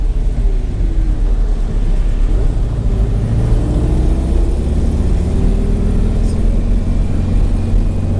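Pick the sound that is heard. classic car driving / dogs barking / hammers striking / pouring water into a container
classic car driving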